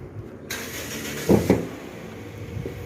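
A white 2018 Toyota Vios 1.5G with a Dual VVT-i engine is started: a brief crank burst, then the motor settles into a low, steady idle hum, heard close.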